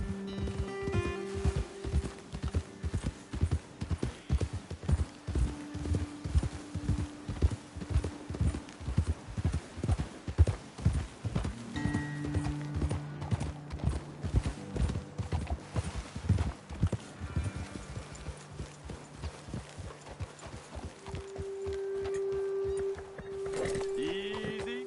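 Horse hooves in the Red Dead Redemption 2 video game clip-clop in a steady, close rhythm that slows and fades near the end, with occasional tonal game sounds and a snort or whinny.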